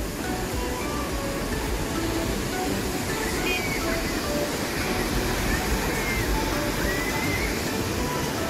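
A river flows in hilly country, a steady close rush and slosh of water running throughout, with faint scattered sounds riding over the constant roar.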